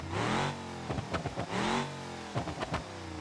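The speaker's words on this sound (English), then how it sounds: "let's listen to the starter" Simulated starter motor cranking an engine in BeamNG.drive, loud repeated whirring bursts with rhythmic pulsing chugs between them, close and without talk.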